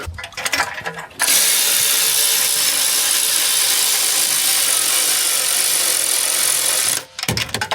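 An impact wrench hammers on cylinder head bolts of an Audi R8 engine in one loud, continuous rattling burst of about six seconds, with brief workshop noise before and after.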